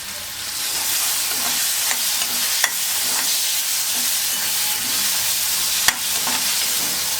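Tomato masala sizzling steadily in a hot pan while being stirred, a continuous bright frying hiss with occasional sharp clicks of the spoon against the pan.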